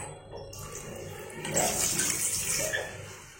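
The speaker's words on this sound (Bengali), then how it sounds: "ভালোই ফোর্সে জল পড়ছে, জল নিয়ে কিন্তু কোনো সমস্যা হবে না।" A washbasin tap runs with strong force in a washroom, a steady close rush of water that swells louder partway through.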